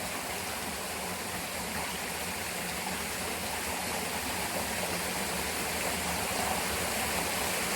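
A waterfall in a deep forest, beside the ruins of a small wooden hut, rushes in a steady, loud, unbroken wash of water that holds its level throughout, with no voices.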